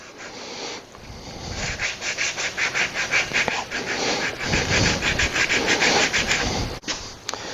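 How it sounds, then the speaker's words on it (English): Steady back-and-forth rubbing of sandpaper on wood, rhythmic and close, continuing for several seconds with brief pauses. "in terms of sanding this down is that when you sand down these little nubs"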